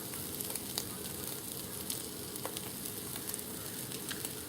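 Omelette with cheese frying in a pan, a soft, steady sizzle with faint crackles and pops, continuous and fairly quiet throughout.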